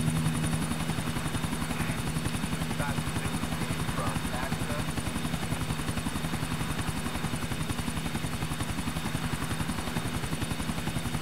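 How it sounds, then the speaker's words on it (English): A helicopter in the video game Grand Theft Auto 4 drones with a steady, loud rotor chop that pulses evenly throughout, alone without talk. "How do you fly the helicopter?"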